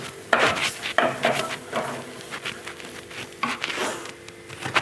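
Stingray fish curry with tomato and tamarind being stirred in a pot, giving repeated close scraping and clinking strokes of a spoon against the pot over a soft simmer, with no talking.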